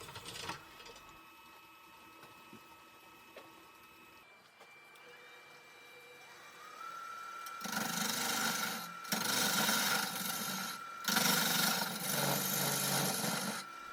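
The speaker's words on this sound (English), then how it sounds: "I always start my hollow forms by drilling a hole into the depth I'm after" A power drill whirs faintly at first, then bites into wood in loud grinding bursts separated by short pauses, drilling a hole to depth for a woodturned hollow form.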